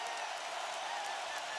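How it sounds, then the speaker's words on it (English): A packed arena crowd roars steadily at Game 4 of the 2007 NBA Finals, San Antonio at Cleveland, a dense, even wash of cheering with no break. "Oh, this crowd is alive again"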